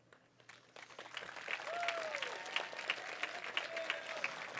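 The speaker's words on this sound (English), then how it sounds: "give them a round of applause" Audience applause at a 2021 high school graduation ceremony, a sustained crowd of clapping that builds within the first second and holds steady throughout, with a few faint voices mixed in.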